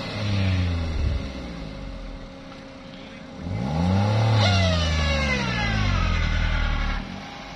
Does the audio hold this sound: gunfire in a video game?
no